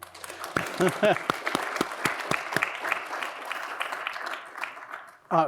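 At a lecture on state constitutions and the Declaration of Independence, a small audience claps in scattered, distinct strokes that thin out over a few seconds. A speaking voice is heard alongside the claps.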